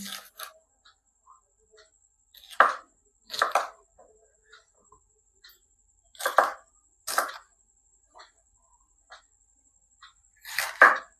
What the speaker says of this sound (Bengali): এটাও কিউ কাটিং করে নেব চৌকো কাটিং